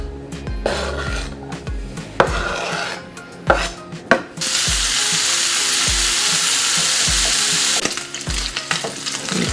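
Bacon frying in a pan, a loud steady sizzle lasting several seconds, framed by scraping and clattering of a utensil stirring and turning the strips, with no voices.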